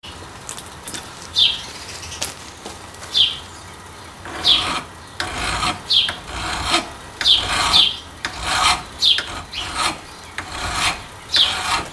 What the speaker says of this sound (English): I'm going to just hit these edges again with the file, just to make them nice and smooth and not have that grinder look to them